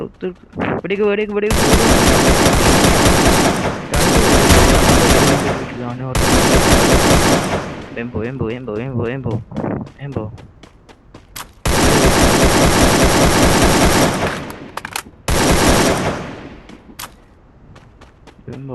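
Rapid automatic gunfire in the battle royale game Free Fire, several loud sustained bursts of shots separated by brief pauses, with people talking between the volleys.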